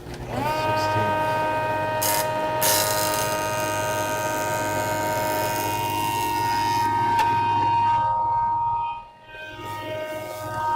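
A planer-type machine with freshly sharpened blades runs with a steady loud whine and hum while cutting through a board, the tone holding level before briefly dropping near the end.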